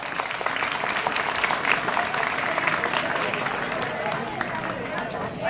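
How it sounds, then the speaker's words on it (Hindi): Audience applause at a school Independence Day celebration, a dense, steady wash of clapping that fills the whole stretch with some crowd noise mixed in. "तालियां बजाएंगे"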